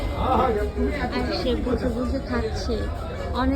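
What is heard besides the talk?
crowd chatter around the speaker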